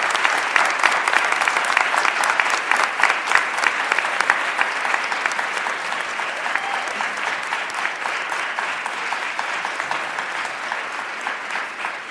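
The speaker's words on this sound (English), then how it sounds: "Let's hear another round of applause for our kindergarten," Sustained applause from an audience at a Board of Education meeting, honoring kindergarten early childhood educators; steady dense clapping holds evenly for the whole stretch with no voices over it.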